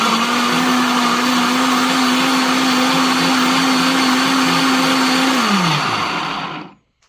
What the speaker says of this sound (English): on our mix with the tomato juice, the jalapenos, the onions, and the garlic, and the jalapeno juice, we're going to want to blend this really good